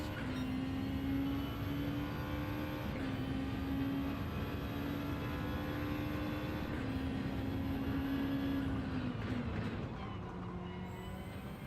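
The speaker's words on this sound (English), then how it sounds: "I love the noise this car makes." A car engine in a racing video game drones with a steady pitched whine that climbs, drops back at each gear change and climbs again several times, fairly loud and alone.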